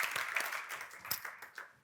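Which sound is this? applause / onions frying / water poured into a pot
applause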